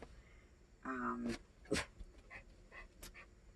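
A dog pants and whimpers nearby in a quiet room, short breathy bursts and a brief whine standing out over low background hiss.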